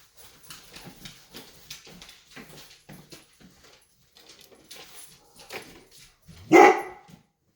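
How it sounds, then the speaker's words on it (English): Dogs barking indoors, a few scattered barks and whimpers before one loud, close bark burst near the end. "now the dogs are going"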